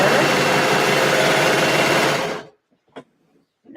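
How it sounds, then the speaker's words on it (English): A sewing machine runs steadily, sewing down a yoke casing for elastic. It hums loud and close for over two seconds, then stops, followed by a few faint clicks and handling noises. "Now I'm just sewing down the yoke, also known as a casing for the elastic."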